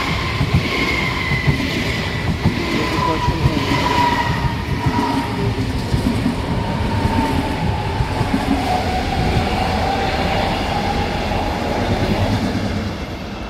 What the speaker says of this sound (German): Dann kommt drüben noch ein S-Bahn.